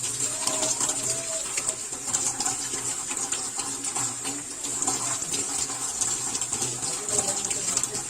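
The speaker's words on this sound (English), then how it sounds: "now we're going to rinse our hands with water" Tap water runs continuously as hands are rinsed under it, a steady close hiss with small splashing variations throughout, no talk.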